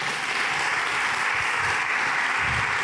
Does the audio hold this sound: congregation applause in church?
yes